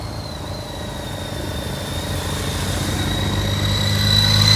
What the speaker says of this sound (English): still more motorcycles are arriving.